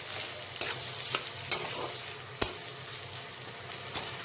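Onions fry in oil for Chinese-style mixed fried rice, making a soft continuous sizzle broken by a few sharp spatula scrapes and clicks against the pan, close by and with no voices.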